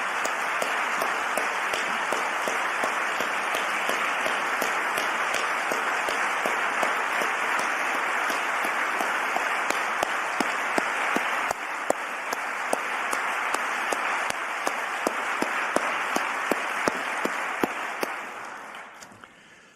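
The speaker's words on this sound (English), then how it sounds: "I would invite you all to join me in applauding once more our two Pyne Prize winners one last time." An audience at an alumni day gathering applauds two prize winners. The dense, sustained applause fills the room for nearly twenty seconds with individual sharp claps standing out, then tapers off at the end.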